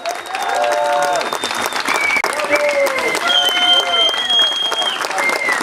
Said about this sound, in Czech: potlesk uměleckému duu In Flamenus.